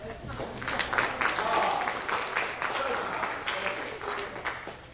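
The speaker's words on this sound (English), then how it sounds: "A little smattering of applause." Small, scattered audience applause at a magic or comedy show, a thin smattering of claps that goes on moderately and fairly quietly, with people speaking over it.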